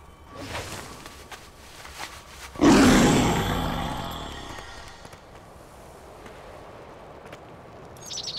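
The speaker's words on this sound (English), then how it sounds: "There are dragons circling above." A loud dragon roar from World of Warcraft swells suddenly and then fades over a few seconds, with faint game ambience before and after.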